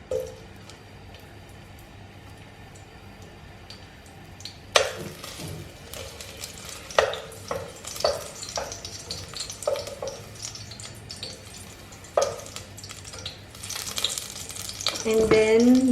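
Chopped garlic sizzles in hot olive oil in a pan for pasta e fagioli, a steady low crackle broken by sharp clicks and scrapes of stirring that grow busier toward the end.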